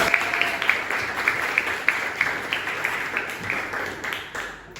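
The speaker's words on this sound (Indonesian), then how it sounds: "Tepuk tangan untuk mereka." Applause from a class of tenth-grade students at a school coaching session, steady dense clapping with scattered sharper claps, close and fairly loud, fading slightly toward the end.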